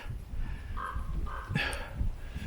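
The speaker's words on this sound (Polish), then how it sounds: "Kruki robią duży klimat." Ravens give a couple of harsh caws in a forest, close and clear, over a low rustling background.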